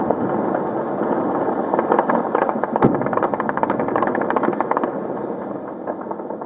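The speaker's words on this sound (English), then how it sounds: "gunfire was heard in Beirut's southern suburbs. It was believed to be celebratory" Bursts of celebratory gunfire in Beirut's southern suburbs crackle steadily over a broad outdoor rumble, with one sharp louder report near the middle; no voices.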